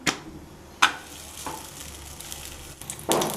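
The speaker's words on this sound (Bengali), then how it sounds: "দেখুন এটাতেও আমি ভেজে নিচ্ছি তেল দিয়ে।" Chana dal paratha frying in oil in a pan, with a continuous sizzle and several sharp bursts as the flatbread is pressed or turned.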